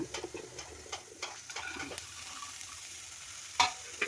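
Legumes tipped into a pan of fried onions and stirred, with soft scraping strokes and scattered clicks over a faint sizzle, a sharper knock near the end, no talking.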